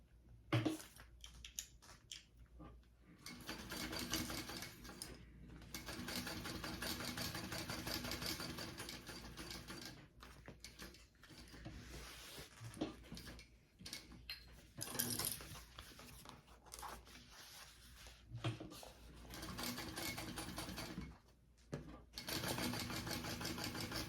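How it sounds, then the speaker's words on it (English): A sewing machine stitching down each side of a seam on a crossbody bag, running in fast buzzing bursts of steady stitching broken by short pauses, close and fairly quiet. "I'm gonna sew down each side of that seam"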